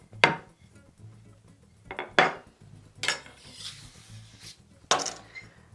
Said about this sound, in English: And then all we do is just cut them out.